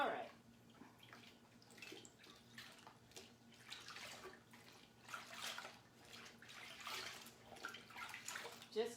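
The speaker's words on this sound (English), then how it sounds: "Just giving it a good rinse. Getting the excess paint off of it." Marbled ribbon and silk fabric are rinsed in water to wash off excess paint, faint soft splashing and trickling with gentle sloshes throughout, no voice over it.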